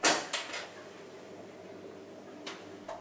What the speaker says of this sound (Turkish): Karısı tedirgin, kapıyı açar.